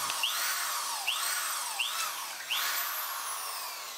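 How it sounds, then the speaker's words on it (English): A power drill bores 1/4-inch holes into the metal drop frame of a Stryker ambulance cot, whining in four repeated bursts with rising pitch sweeps, close and loud. "We will now drill the 2 1/4 inch holes in the drop frame in the spots indicated"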